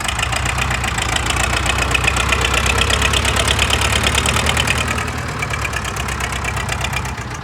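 A Ford tractor engine, offered for sale in good running order, idles loud and close with a steady rapid diesel knock, dropping slightly in level partway through and continuing evenly.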